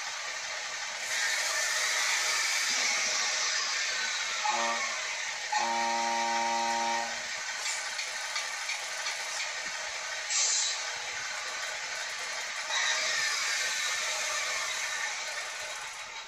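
Tamiya Grand Hauler RC truck running a Tamiya MFC sound unit, giving a steady synthetic diesel engine drone with a brief horn-like tone midway and a short hiss burst, close and continuous with no talking.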